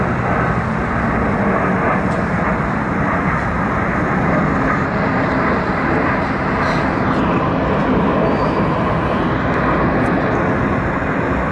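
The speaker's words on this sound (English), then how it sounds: "Check it out," An airplane flies over a residential neighbourhood in Kennedy, Bogotá, a steady broad roar that stays loud and continuous throughout, blending with general street noise.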